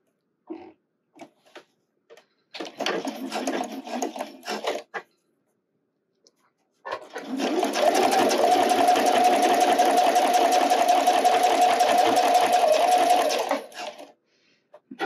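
A sewing machine stitches an Annika wireless bra in two runs, a short burst and then a longer steady whir, close and fairly loud, with soft handling clicks before and between.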